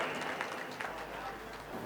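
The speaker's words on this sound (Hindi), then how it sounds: "हमारे शायर अपूर्व विक्रम शाह का जोरदार तालियों से इस्तकबाल करें" Audience applause at a mushaira greets the poet Apurav Bikram Shah as he comes on stage, a steady dense clatter of many hands that fills the whole moment.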